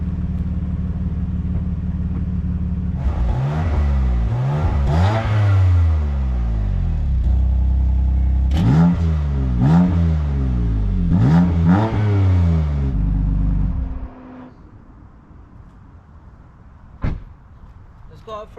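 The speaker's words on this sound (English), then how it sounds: "I'll just show you the exhaust tone" A BMW M4 Competition Convertible with a 3.0-litre 450 hp twin-turbo engine revs its exhaust in several loud, rising bursts from a rumbling idle, then cuts off, followed by quiet and a single door slam.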